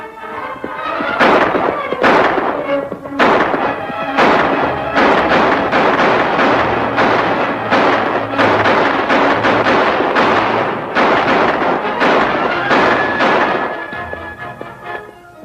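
Firing-squad volley in a 1947 Zorro western serial: a dense run of loud, sharp shots and thumps, continuing for most of the stretch with only brief gaps between blasts.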